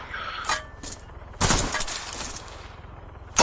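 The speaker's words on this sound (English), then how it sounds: "They're shooting at us with explosives." Gunfire and explosive blasts in the military game ARMA 3: sharp bursts of shots and a heavy blast, loud and close, separated by a rumbling battlefield background, with another loud hit at the end.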